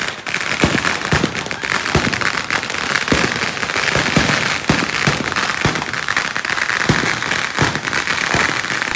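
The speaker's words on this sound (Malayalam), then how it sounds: "വെടിക്കെട്ടൊക്കെ തുടങ്ങി" Rapid bursts of firecrackers and fireworks at a church feast explode continuously, sharp cracks and bangs over a dense crackling roar, loud and close.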